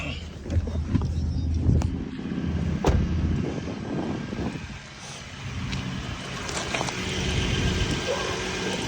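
A 2013 Ford F-150 engine idling after an oil change, a steady low rumble close by with some clanks and background noise, no talking over it.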